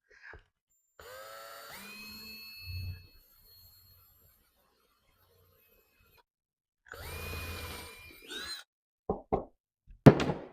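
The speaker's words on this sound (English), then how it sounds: "I'm going to take the drill and just drill that back out" A power drill drilling out a knob hole in wooden furniture, whirring up and spinning in two separate bursts, close and loud, followed by a few sharp knocks and clicks.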